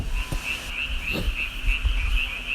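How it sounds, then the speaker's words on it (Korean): Frogs croak steadily and densely with a continuous high trill. A few louder croaks stand out near and clear, and no one speaks. "맞아요. 개구리 소리예요."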